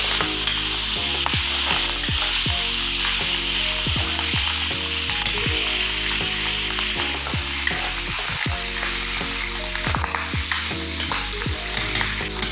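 Ginger, onion and garlic frying in a pan for ginataang laing, a loud, dense, continuous sizzle with frequent crackles and pops throughout, close up and with no talking.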